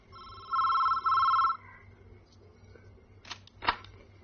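A telephone rings with two electronic trilling bursts close by, followed by a couple of sharp clicks and handling noises.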